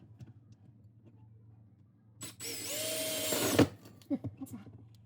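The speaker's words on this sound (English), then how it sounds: "I'm going to go with 3-inch hole on the OSB and drill that out." A power drill whirs for just over a second, spinning up and straining as it bores a 3-inch hole in OSB board, then stops, followed by a few knocks and faint handling sounds.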